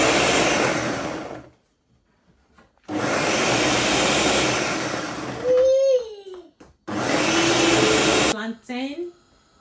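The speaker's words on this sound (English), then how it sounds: "washed pepper and onions, so I'm going to blend it right now" Blender blending washed pepper and onions, running in two loud, steady whirring bursts separated by a pause, with a person talking briefly between and after.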